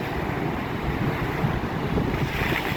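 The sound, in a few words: ocean waves crashing at Hedvi beach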